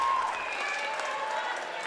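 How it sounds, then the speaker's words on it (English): Crowd roaring and cheering in a high school gym during a basketball game between the Gordon-Rushville Mustangs and Chadron Cardinals, a loud, steady wash of voices filling the room. "the crowd goes nuts"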